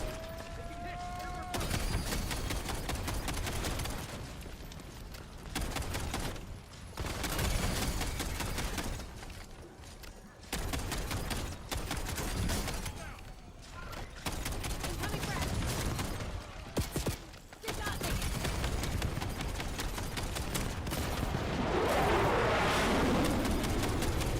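Sentry gun fire in the video game Black Ops 7: loud, repeated bursts of automatic gunfire with short gaps between them, mixed with explosions and dense game sound, and a voice talking over it.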